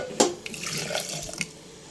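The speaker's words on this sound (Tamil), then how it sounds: "தண்ணி கலந்து உங்களுக்கு எவ்வளோ தேவையான அளவு தண்ணி கலந்து இப்போ நம்ம ஊற்றிக்கலாம்" Water poured into a pressure cooker for homemade chicken soup, a close splashing gush starting with a sharp splash and continuing briefly before tapering off, with no talking.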